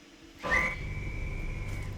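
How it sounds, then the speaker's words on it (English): A Class 86 locomotive in Train Simulator sounds one sustained, steady whistle tone that starts sharply and holds for over a second over a low rumbling background. "oh, whistle."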